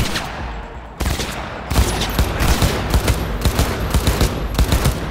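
Gunfire in Cyberpunk 2077, a sharp shot followed by sustained rapid automatic fire, loud and close, with a dense crackling rhythm over a low rumble.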